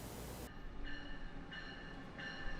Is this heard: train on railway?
yes